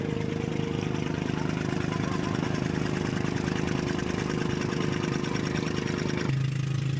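A boat motor drones steadily and loudly throughout at sea off Calatagan, Philippines, with wind noise over it; near the end the engine pitch drops.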